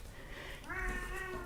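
A pet cat meows indoors in a craft room, one drawn-out, rising meow that grows louder toward the end, close to the microphone.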